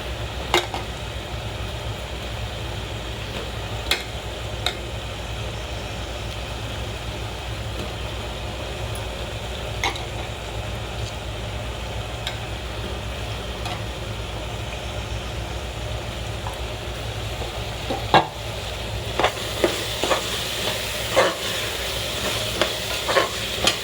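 Soaked, squeezed meal maker chunks stirred into an onion-tomato masala frying in a pan, a steady sizzle with intermittent scraping clicks of the spoon, growing busier toward the end, no talking.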